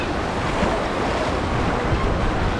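Water park wave pool surging and churning in a steady roar of splashing water with wind buffeting the microphone, continuous and close with no voices.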